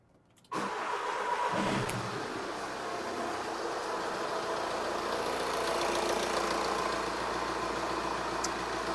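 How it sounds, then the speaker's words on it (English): A car engine cranks and catches at about half a second, then settles into a steady, loud idle with a low rumble that continues to the end. "we can turn on the ignition or start the vehicle as per your test"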